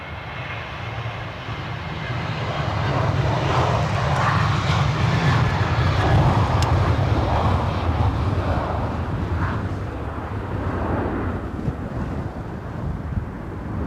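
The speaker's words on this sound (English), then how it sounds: "we'll land the Qatar 350" A Qatar Airways Airbus A350 lands at windy Edinburgh Airport, its engine roar swelling to a peak and easing off, with wind buffeting the microphone and no talk.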